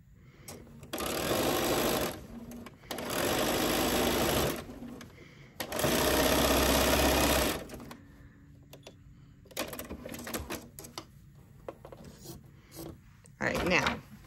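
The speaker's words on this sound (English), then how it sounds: "So sew that piece, and we're going to leave like an inch tail on it" A sewing machine stitches fabric for a ruffle box zip pouch in three steady running bursts of about two seconds each, close and loud, followed by quieter handling clicks and a short final burst.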